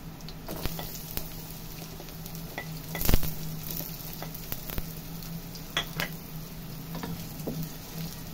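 Chopped onion sizzles steadily in a hot pan while cooking Bicol Express, with soft stirring scrapes and a sharper clatter partway through, close and continuous with no talking.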